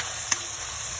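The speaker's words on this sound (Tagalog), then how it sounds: "gisa po natin yan. Lutuin po natin ng ating tomato." Shrimp and tomato sauté in a pan with a steady, soft sizzle and a single brief clink of a utensil near the start.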